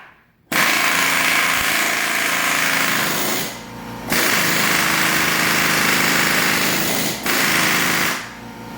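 Pneumatic air hammer running at about 50 psi while pressing parts into an oxygen concentrator sieve canister, a loud, rapid buzzing rattle in three sustained bursts separated by brief pauses, close and without speech.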